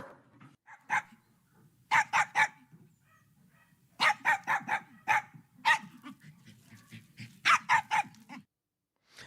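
Recorded barking from big and small dogs, sharp barks coming alone in clustered bursts of two to four with short silences between, fairly close and clear.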